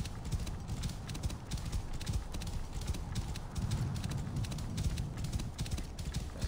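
Hooves clip-clopping steadily as a horse gallops in Assassin's Creed Origins, a continuous loud drumming rhythm with rumbling low ambience and an occasional faint whinny, no talking over it.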